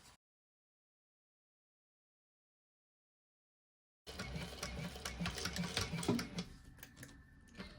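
A sewing machine back-stitching handbag gussets: about four seconds of silence, then a steady, close mechanical whir with rapid rhythmic clatter that runs to the end.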